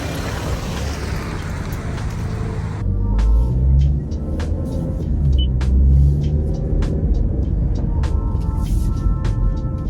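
A Toyota Camry SE pulls away in sport mode, a low engine rumble swelling under steady road noise, heard from inside the cabin, with a few faint clicks.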